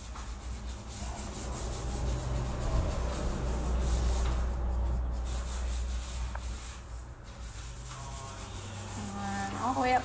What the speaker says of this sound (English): I think I forgot to sand this corner because it sounds a little bit rough.